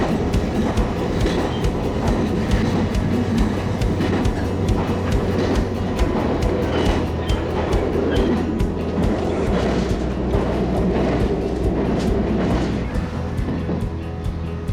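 An electric train on the Senzan Line in Japan approaches Sakunami Station with a continuous loud rumble and rhythmic clickety-clack of wheels over rail joints. The sound is heard up close, with no speech.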